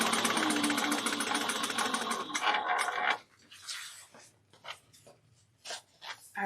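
A sewing machine stitches through a bulky vinyl bag, running fast and steady with a dense rhythmic whir for about three seconds, then stopping to leave quieter scattered clicks and handling noises.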